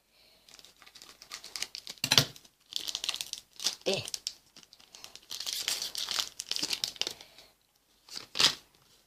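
Crinkling and tearing of a Pokémon card pack wrapper being cut open with scissors in several bursts, with sharp rustles and short pauses, close by; a voice speaks briefly in between.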